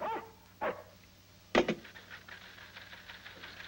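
Agitated dogs let out a few sharp, separate barks and yips with quiet gaps between them, a louder bark near the middle and fainter echoing yelps after, heard outdoors near a guarded missile base at night.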